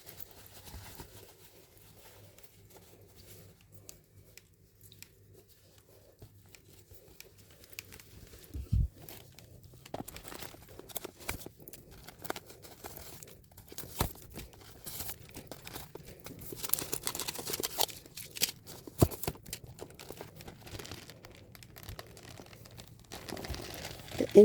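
Protective wrapping inside a Coach candy crystal Tabby 26 handbag being unwrapped, soft paper or plastic rustles and crinkles in scattered bursts, quiet at first and busier toward the end, no voices.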